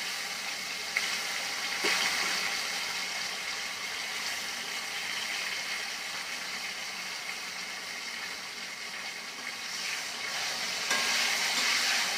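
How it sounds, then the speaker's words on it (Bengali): Sliced teasel gourd (kakrol) fries in oil with a steady, moderately loud hiss and crackle. The sizzle swells slightly near the end, and no voices are heard over it. "কাঁকরোলগুলো ভাজতে বসিয়ে আবার কিছুটা লাউ শাক ফুটে নেবো।"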